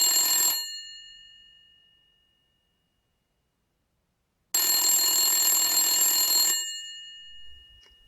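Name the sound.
telephone ringing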